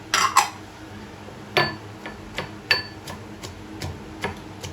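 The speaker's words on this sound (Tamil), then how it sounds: "இப்போ வந்து சின்ன வெங்காயம் பூண்டும் நல்லா தட்டிக்கலாம்." Shallots and garlic pounded for a chili chutney, a series of sharp, separate thuds and clacks at an uneven pace, close and fairly clear with quiet gaps between strikes.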